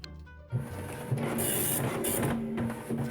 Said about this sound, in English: I can tell when it's about to start by just listening for the actual printer